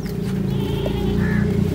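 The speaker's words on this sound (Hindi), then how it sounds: "वे बकरी वे" A goat bleats over a steady low rumble of background noise, a single drawn-out call near the middle of a short stretch.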